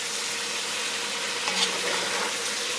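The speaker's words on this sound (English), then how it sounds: "immediately you're going to hear that loud sizzle when the shrimp touches that butter" Shrimp sizzles in melted butter in a pan, a steady, dense hiss with no break, moderately loud and close.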